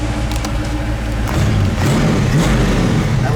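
Classic 1966 Ford Mustang coupe engine running while driving, a steady low rumble that swells slightly as the car picks up pace, close and continuous.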